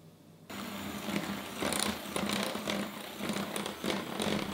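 An electric mixer beats chocolate crinkle cookie dough with vanilla extract and egg, a steady buzzing whir that starts abruptly and runs on at an even, moderate level with slight surges.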